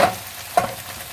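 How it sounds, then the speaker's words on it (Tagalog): Cabbage stirred and sautéed with garlic in a hot pan gives a short sizzle, with a brief louder scrape of stirring midway before it settles back to a low fry. "Repolyo ang panggisa natin dyan."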